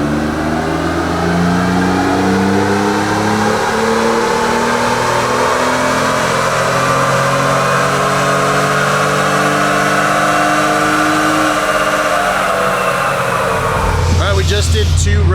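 Engine of a 2020 Ford Raptor fitted with bigger Garrett turbos, revving hard on a dyno in a hot shop, with a steady climbing pitch over about fourteen seconds and then a sharp drop as the run ends.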